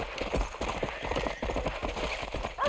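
Horse hooves clip-clop in a steady rhythm in Red Dead Redemption, a Western open-world video game, close and fairly loud with a soft background bed throughout.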